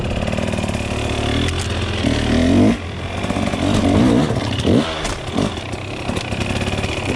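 A motorcycle on Dunlop EN91EX tyres is ridden with an engine that revs and drops in pitch, rising and falling several times under steady wind and road noise, close and loud, with no voices.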